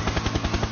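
Rapid, rhythmic chopping of a helicopter's rotor, loud and close, pulsing evenly through a brief burst with no talking.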